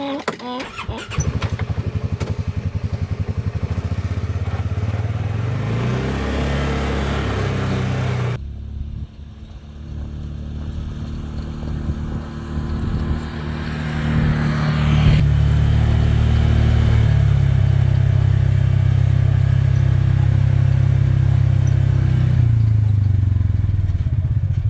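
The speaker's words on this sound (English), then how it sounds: "So I'm gonna jump in the ATV real quick" An ATV engine starts and drives across a homestead pasture, loud and close, rumbling steadily and then rising as it picks up speed, with voices underneath.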